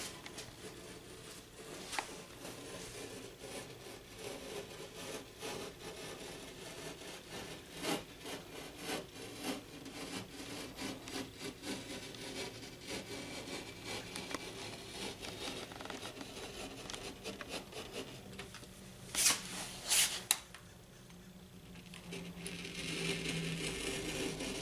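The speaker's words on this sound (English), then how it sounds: "you can cut sheetrock with a regular utility knife and just follow your line" A utility knife scores and slices through sheetrock drywall while a window opening is patched, giving repeated dry scraping and rasping strokes that run steadily at close range with no one talking.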